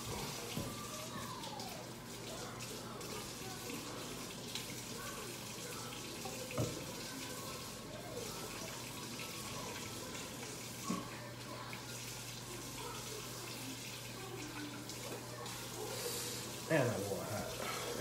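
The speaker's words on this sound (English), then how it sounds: "And yeah, I wash my hands." Hands being washed under a running kitchen tap while making a crab and shrimp spinach-artichoke dip, a steady soft hiss of flowing water with faint splashing and clatter throughout.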